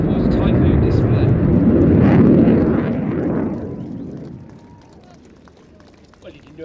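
An RAF Eurofighter Typhoon jet departs a display at East Midlands Airport with afterburners lit, a loud, deep roar that swells and then fades steadily into the distance.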